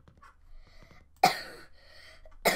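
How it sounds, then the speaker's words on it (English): Two sharp coughs from a nearby person, one at mid-clip and another at the end, with faint voices and background game sounds in between. "I'm sorry if I'm coughing."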